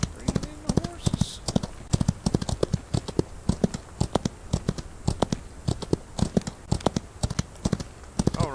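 Horse hooves in the Old West video game Outlaws Old West clip-clop in a steady, brisk rhythm through the whole stretch, fairly close and clear, with a faint voice near the start.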